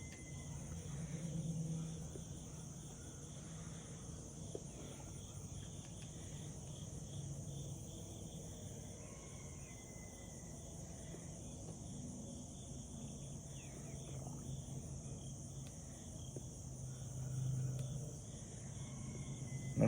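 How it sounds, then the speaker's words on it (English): Crickets chirping outdoors in a quiet rural spot, a faint, steady high-pitched trill running unbroken through the whole stretch over a soft low rumble, with occasional distant bird calls. "I don't know if you can pick up the crickets"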